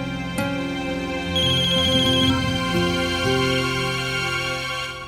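A telephone ringtone sounds for an incoming call in a domestic scene from a Hindi family drama, a steady melodic electronic ring repeating loudly for several seconds with no voices over it.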